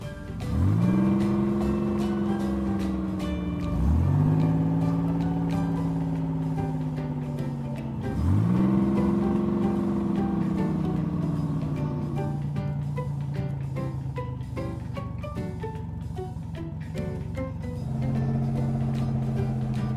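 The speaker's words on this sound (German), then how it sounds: "Autos, ihr könnt weiterfahren." Motor whirs rise and fall in repeated revving surges as small wooden toy cars pull away one after another past a rising level-crossing barrier, droning steadily nearby with no talking.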